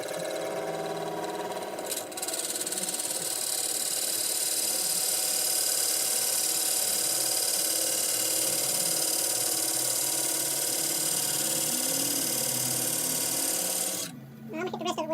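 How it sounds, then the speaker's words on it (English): A lathe parts off a glue chuck and then surfaces the piece flat, producing a continuous rough scraping rasp over a low motor hum for most of the stretch, ending with a short burst of different noise. "Now I'll part this glue chuck off, surface this flat"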